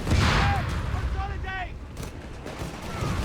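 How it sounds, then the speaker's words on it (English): Mortar airburst shells explode amid a Company of Heroes 3 battle, a steady wash of distant blasts and gunfire under a caster's continuous commentary. "Airburst shells from the mortar."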